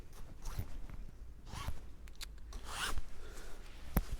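Draw cord toggles being cinched on a Onewind top quilt, a few short close rubbing and zipping slides of cord through plastic toggles with fabric rustle.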